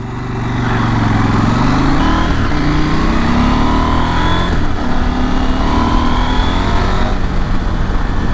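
A KTM 790 Adventure motorcycle cruises down the M6 motorway in rain mode, its engine holding a steady, loud drone throughout, mixed with continuous wind rush and slight pitch swells as the throttle shifts.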